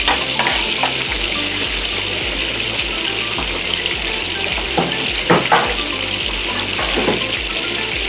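Tilapia fillets simmer in butter in a pan on a low carb stovetop, giving a steady sizzling, bubbling hiss with a few louder spits and pops, close and continuous, with no voices.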